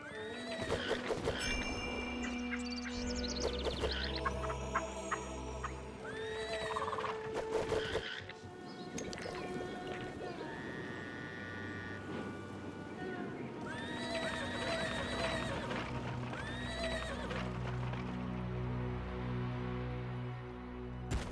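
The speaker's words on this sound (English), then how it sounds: "I always think it's funny that they make the horse noises." Horse neighs and whinnies with hoof clip-clops in the ancient Egyptian city-building game Pharaoh, mixed with game music and ambient effects, recurring at moderate loudness throughout.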